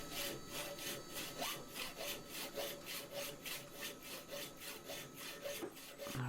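A hand saw cuts through wood for a lantern bracket, making steady back-and-forth rasping strokes in a quick, even rhythm. The sawing is close and fills the clip, with no talk.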